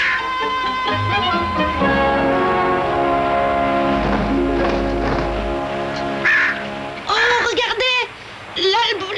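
An albatross gives harsh, squawking calls over a backdrop of sustained music, with voices talking in the mix.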